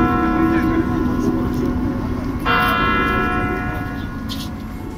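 New Year chimes ring out in Moscow, with a clear bell strike standing out midway above a dense, noisy crowd and street background, the resonant tone slowly fading.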